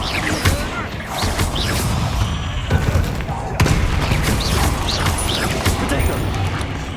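In the video game Hogwarts Legacy, the Confringo spell sets off a burst of explosive booms and crackling impacts, with sharp transients rising over a busy bed of game effects and a voice speaking.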